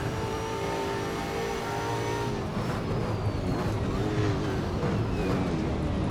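V8 Supercar engine at Townsville street circuit in Assetto Corsa, a steady loud drone with shifting pitch as the car runs in traffic, other cars' engines blending in close by.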